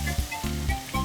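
Noodles stir-frying in a hot pan, a short, soft burst of sizzling with faint scraping pulses as they are tossed.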